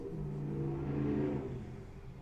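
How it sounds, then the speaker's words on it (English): A car engine revs and swells as it passes outside, a low rumbling roar rising then fading slightly, heard at a moderate distance. "the noisy cars racing in front of my place"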